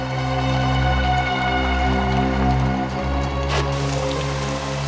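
Steady rain falls in a crime drama scene, a constant dense wash of noise with a low hum running beneath it and no voices over it.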